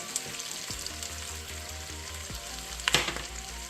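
Vegetables with tomato paste and flour sizzle in a pan, a steady close frying hiss with soft stirring scrapes and a sharp clink of a utensil near the end, no talking.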